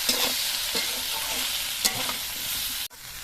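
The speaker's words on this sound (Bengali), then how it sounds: "এবার হলুদের গুঁড়ো দিয়েও আরও কিছুক্ষণ সময় ভেজে নিতে হবে" Vegetables sizzle steadily in hot oil in a pan after turmeric powder is added, with a few scraping stirs of a spatula breaking the constant frying hiss before a brief pause.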